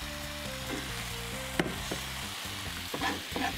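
Steady crackling sizzle of water added to a hot frying pan of onions, with a few clinks of a utensil against the pan and a low tonal hum underneath.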